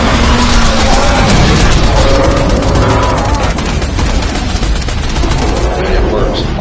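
A small spinning gun fires in a boss-fight video game, its rapid shots buried in a dense, loud, continuous wash of game sound, music and effects from start to finish.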